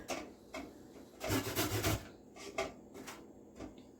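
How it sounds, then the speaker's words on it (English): A carrot rasps against a hand grater in a few short scraping strokes, close but fairly quiet, with one longer rough stroke in the middle among lighter, briefer scrapes and no talking. "Alright, I'm gonna grate it now."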